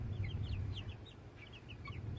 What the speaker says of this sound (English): there's chickens